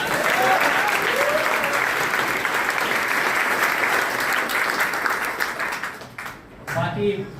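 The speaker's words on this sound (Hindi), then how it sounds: "तुम्हारी आने वाली अपने लिए ताली बजा सकते हो ना?" A large group of students applauds at an orientation session in a coaching centre, with loud, sustained clapping that tapers off near the end as voices come through.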